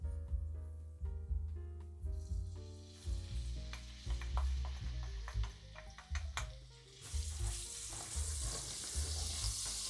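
Chilies and a knob of butter fry in a hot pan for penne arrabbiata, giving a steady close sizzle with stirring clatter; some tonal ringing sits early on and the hiss grows brighter near the end.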